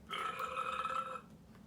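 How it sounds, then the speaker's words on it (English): A single long, low burp rumbles for about a second, then fades into quiet. "Oh, it's a burp."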